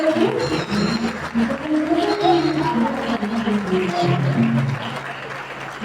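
A church congregation at a Pentecostal church anniversary service applauds and cheers together, a dense, sustained wash of clapping and voices that fills the hall at moderate loudness throughout.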